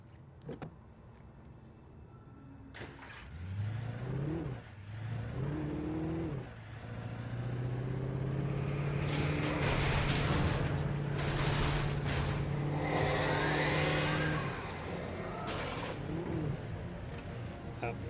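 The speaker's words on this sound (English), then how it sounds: "Now that's a car." A car engine in the video game Alan Wake rises and revs, a rough swelling drone with pitch sweeps that grows louder and more strained midway, while someone talks over it.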